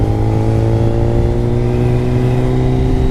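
BMW K1300S Motorsports Edition motorcycle with its engine revving steadily and loudly up close, a continuous harmonic drone that holds for the whole stretch with no talk over it.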